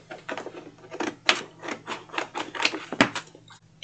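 Scissors snip through a Dollar Tree cutting board craft piece, a series of close, crisp cutting strokes with no talking.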